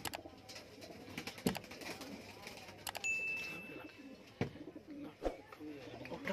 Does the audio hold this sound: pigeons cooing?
yes